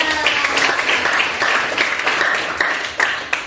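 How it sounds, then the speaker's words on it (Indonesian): Classroom of high school students clapping together, a dense, steady burst of applause held at even loudness for several seconds without talk. "Oke, tepuk tangan untuk semuanya."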